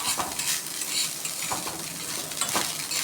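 Coconut rice cooking in a kadai, stirred steadily with a soft continuous sizzle and a few louder scraping strokes of the spoon against the pan, close up, with no talking.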